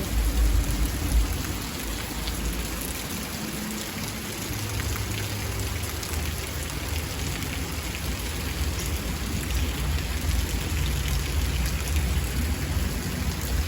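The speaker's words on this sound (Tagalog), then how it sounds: "Guys, nag-ulan na diri." Steady rain falls continuously on surfaces nearby, a dense even hiss with a low rumbling undertone that holds throughout, with no voices.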